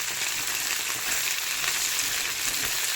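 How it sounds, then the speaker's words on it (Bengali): Purple cauliflower frying in a pan with no salt or turmeric, giving a dense, continuous, even sizzle at close range with no talking. "এদিকে তো কপিটা ভাজছি।"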